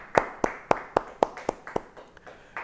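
Sparse, rhythmic hand claps from a church Bible study congregation, about ten evenly spaced sharp claps close by, fading out toward the end.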